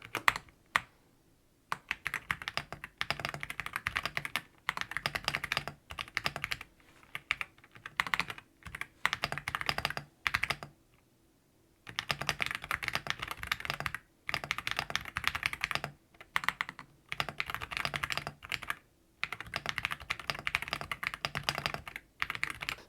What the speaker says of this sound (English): you can watch me do a little typing